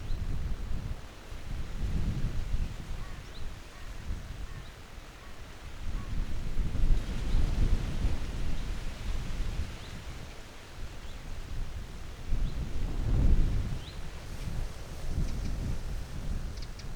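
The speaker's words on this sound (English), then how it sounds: "A bit windy, hence the hood." Wind gusts buffet the microphone outside an abandoned Irish cottage under renovation, a steady low rumble swelling into stronger bursts around the middle and near the end, with no voices.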